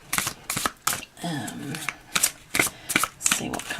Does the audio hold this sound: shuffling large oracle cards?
yes